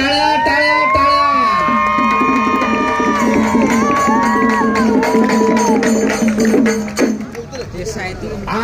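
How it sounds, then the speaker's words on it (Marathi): Crowd at a kusti wrestling bout in a village ground, cheering and shouting loudly and continuously with clapping mixed in, amid a babble of voices and a brief dip near the end. "आनंदाला आणि मैदाना उनका टाळ्या टाळ्या टाळ्या"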